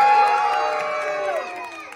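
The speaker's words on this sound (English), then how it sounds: "let's cheer even harder" Children cheer and whoop together at a wrestling show held in a library, a loud burst of high voices close by that slowly fades over two seconds.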